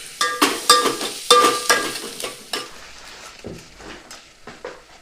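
Onions fry in a pan for dalcha, with loud, close stirring and scraping strokes in a quick irregular rhythm over a sizzle, then quieter, sparser clinks of the spoon against the pan; no voices.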